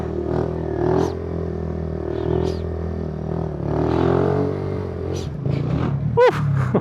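A mini bike's small engine runs steadily up close as it is ridden around, with a few revs and clattering bumps near the end and no talk over it.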